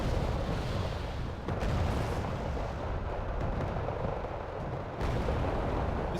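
Mortar fire in the Wargame Red Dragon video game: a dense, continuous rumble of distant blasts and explosions that rolls on without a break, with a few sharper thuds standing out.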